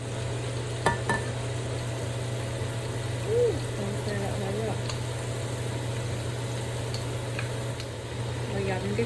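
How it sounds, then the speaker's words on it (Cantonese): Pork pieces deep-frying in reused oil over medium heat for sweet and sour pork give a steady, even sizzle over a constant low hum, with a voice speaking briefly in the background. "OK，開始炸啦。"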